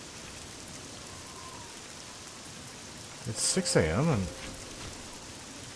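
Steady rain falling outside at 6 a.m., a constant hiss beneath a brief spoken remark.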